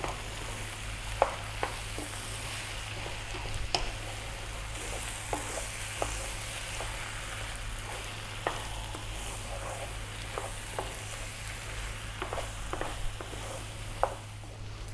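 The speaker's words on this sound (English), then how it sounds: "I'm going to stir fry this around about 4 minutes" Cabbage, eggs and potatoes stir-fried in a pan give a steady close sizzle with a low hum underneath, broken by sharp clicks and scrapes as a utensil stirs the food, with no voices.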